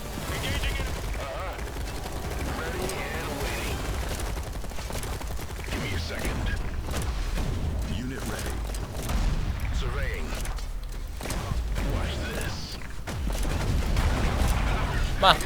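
Tank cannon and gunfire in the video game Tempest Rising crackle in dense, repeated bursts with booming impacts, steadily loud throughout and building toward the end.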